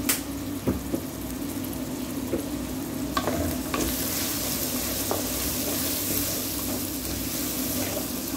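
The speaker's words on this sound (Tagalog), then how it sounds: "Halo-halo lang tayo." Food sizzles in a pan while it is stirred, a constant close frying hiss with occasional scrapes and knocks from the utensil, and no talking.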